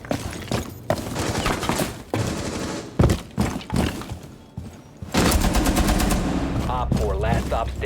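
Tachanka's LMG in the game Rainbow Six Siege fires in short, sharp bursts before breaking into a sustained, loud stream of rapid machine-gun fire, with a voice heard briefly.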